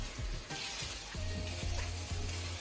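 Beef meatballs stirred in tomato sauce with a rubber spatula, giving a steady close sizzle and bubbling with a few soft scraping strokes and no voices.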